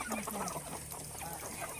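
Country hens from a native laying flock cluck in short repeated bursts while being caught and packed into crates, close and steady over a busy background.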